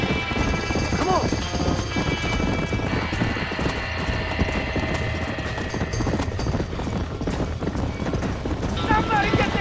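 Horses clatter and whinny in a burning barn in the video game Red Dead Redemption 2, amid a dense, roaring din of fire and people shouting over it.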